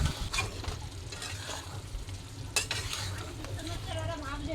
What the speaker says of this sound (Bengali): একটু নাড়িয়ে দিলাম দেখো মশলাটা দিয়ে একদম পুরো কিন্তু কষানো হয়ে গেছে